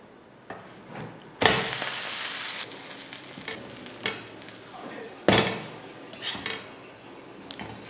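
Uthappam batter frying on a hot pan with oil, giving a steady sizzle with bursts of louder crackling and occasional metallic scrapes of a utensil against the pan.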